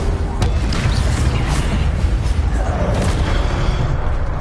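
Fiery Incendio spell blasts in Hogwarts Legacy, a loud dense whooshing burst that roars steadily for several seconds with crackling bright flares on top and no talking.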